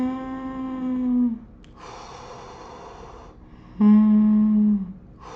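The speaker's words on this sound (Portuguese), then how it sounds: "Está respirando assim, vai puxar pelo nariz" A person simulates the breathing of a laryngeal spasm, drawing air in through the nose in two strained, wheezing, snort-like inhalations separated by softer breathy sounds, loud and close.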